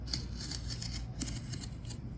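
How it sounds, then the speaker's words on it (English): An X-Acto knife lightly scores cardboard without cutting through, giving a run of close, soft scratchy slicing strokes that repeat in a fairly steady rhythm. "this is called scoring, when you just slice something without going all the way through"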